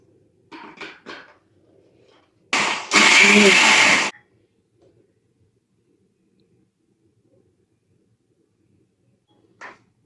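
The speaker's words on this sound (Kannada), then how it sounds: "ಸೊ ಇನ್ನೊಂದ್ ಸ್ವಲ್ಪ ಹಾಲನ್ನ ಹಾಕೊಂಡು ಮಿಕ್ಸ್ ಮಾಡ್ಕೋತಾ ಇದ್ದೀನಿ" A blender whirs loudly for about a second and a half, mixing a mango and banana milkshake with extra milk, framed by brief bits of speech and silence.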